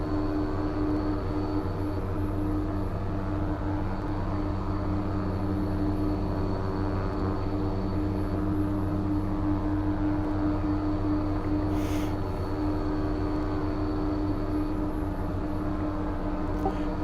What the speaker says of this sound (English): I think I'm having some traction issues with the MU2 today in X-plane. I don't have the reversers on, and yet it's taxiing in a very reasonable speed.